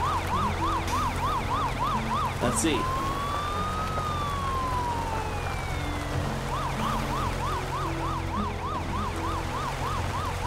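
Wailing ambulance siren from the Poly Bridge video game, a steady rising-and-falling electronic tone that runs through nearly the whole stretch, with a brief sweeping glide in the middle and a short spoken remark over it.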